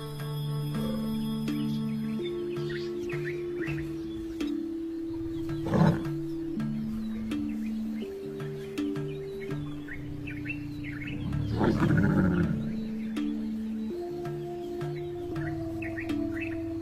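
Lions in the African savanna, a male trailing a lioness in heat, give a deep, loud roar near the six-second mark and a longer rumbling bout around twelve seconds, over a steady background hum and scattered bird chirps.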